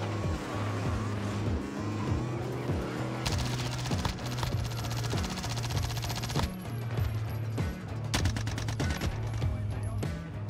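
Rapid automatic fire from a PPSh submachine gun in Call of Duty Warzone, several long and short bursts of sharp, close, loud shots with brief pauses between them.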